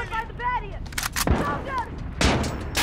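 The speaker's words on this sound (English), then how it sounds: "I have unlimited ammo with an AK." Booming AK rifle shots ring out in Call of Duty: Modern Warfare, two or three heavy, near reports within a few seconds, mixed with in-game voices speaking between them.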